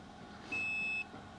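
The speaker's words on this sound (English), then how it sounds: "And that beep tells you it's done." A TPMS sensor tool gives a single steady electronic beep about half a second long when its test finishes, clear and close against a quiet background.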